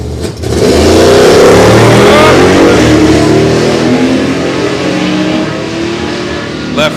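Two GM muscle cars, a Camaro and a Firebird, launch off the line at a drag strip, loud engines roaring and rising in pitch together for several seconds before easing off.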